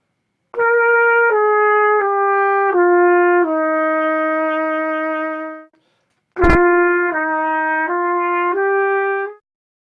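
A trumpet plays two smooth slurred phrases of connected descending and rising notes, with a short pause between them and no talking.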